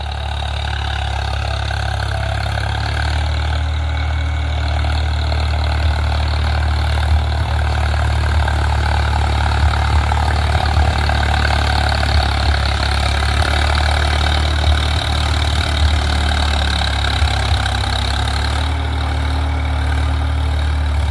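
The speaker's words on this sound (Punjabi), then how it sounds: "ਆਵਾਜ਼ ਸੁਣੋ ਟਰੈਕਟਰ ਦੀ" A tractor engine runs continuously close by in a field being ploughed, a loud low throbbing drone that holds steady throughout with no talking.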